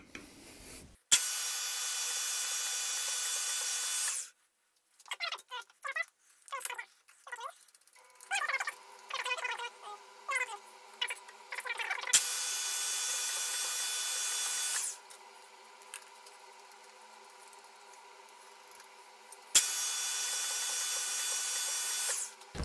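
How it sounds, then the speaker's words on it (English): A drill runs in several long, steady whirring stretches, boring a 19-hole circle in metal on a Walter UTA80 dividing head, broken by quieter intervals of clicks, taps and handling noises, close by. "now I'm drilling the 19 hole circle"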